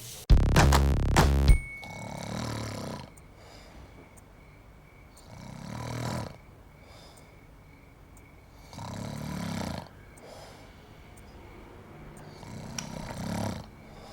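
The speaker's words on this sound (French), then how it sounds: "tu ronfles" A person snores loudly in slow, regular cycles, each deep rasping breath rising and fading with quiet pauses between, after a brief loud burst at the start.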